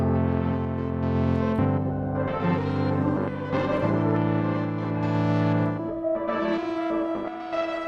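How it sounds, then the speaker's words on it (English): A Sonicware Texture Lab granular effects processor plays sustained droning tones with dry signal mixed in, chords shifting every second or two with a shimmering, echoing granular texture. "we're going to be able to hopefully hear the granular side and the dry side as being more distinct, which will sound like this"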